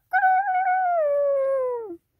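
A single long howl imitating a dog comes from a person's voice, held steady for nearly two seconds before sliding downward and stopping, loud and close in an otherwise quiet room.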